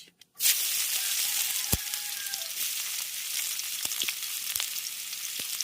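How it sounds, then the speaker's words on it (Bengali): Chopped onion hits hot mustard oil with a sudden burst of sizzling that settles into a steady, close frying hiss, with a few faint clicks over it. "তেল গরম হয়ে গেছে এবার তেলের মধ্যে দিয়ে দেবো কুচিয়ে নেওয়া পেঁয়াজ"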